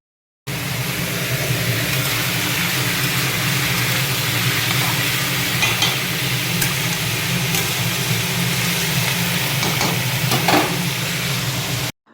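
Small vegetables frying in a pan, a steady moderate sizzle and crackle running evenly throughout with occasional light clinks, no talking.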